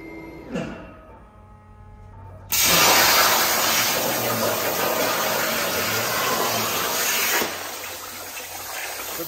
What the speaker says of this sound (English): So now we're burning the plate.